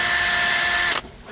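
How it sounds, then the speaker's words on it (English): A power drill bores out 3/16 inch holes in the bowsprit of a C&C 39 sailboat, a steady close whining grind lasting about a second before it stops abruptly, leaving quiet. "drill them out"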